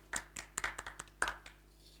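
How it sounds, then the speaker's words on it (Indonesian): A small group claps hands in a short burst of about nine or ten uneven claps, with a stronger clap near the middle, heard close up in a podcast studio setting before the sound tails off. "Tepuk tangan dulu"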